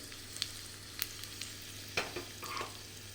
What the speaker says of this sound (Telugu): అలాగే ఒక టీ స్పూన్ జీలకర్ర ఒక రెండు ఎండుమిర్చీలను కూడా ఇలా చించుకొని వేసుకోవాలి వీటిని కాస్త వేగనివ్వాలి